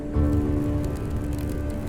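Steady patter of rain falling on a surface, with a low rumbling hum underneath and no voices.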